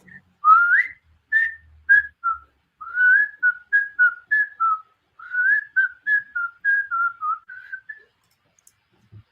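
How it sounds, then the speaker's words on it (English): A melodic whistled tune, the famous whistle from a song, performed as a string of short rising and falling phrases with brief pauses between them, clear and close against near silence. "You know who did that famous whistle and what song that is?"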